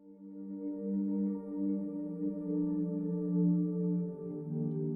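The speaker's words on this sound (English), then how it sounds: "Which in and of itself is a gorgeous pad sound." Frost layer pad from the Frozen Vibes instrument by Fracture Sounds, a sustained, layered synth pad holding a chord with steady low and mid tones, swelling gently and evenly for several seconds with no talking.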